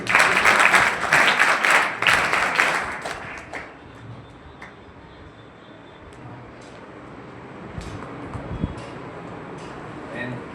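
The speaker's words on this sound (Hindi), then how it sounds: "पुनः बड़ी ताली करूं।" Loud applause from an audience at a 12th-grade board exam merit award ceremony, dense clapping for about three seconds that thins out and fades into room noise.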